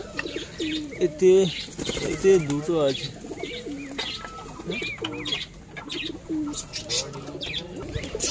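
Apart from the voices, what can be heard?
pigeons cooing in their coop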